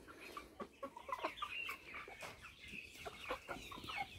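A flock of young Big-6 birds, chickens or turkeys, clucking and chirping nearby in a run of short overlapping calls, with no voices.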